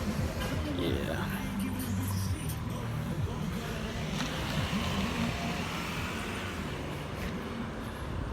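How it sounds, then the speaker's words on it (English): A car passes by on a road with a broad, steady rushing roar that stays fairly even, and a voice can be heard faintly underneath. "Let this car go by."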